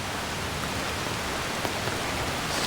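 Pouring rain falling in the Smoky Mountains on a hiking trail, a constant close hiss of water with faint patter and no talking.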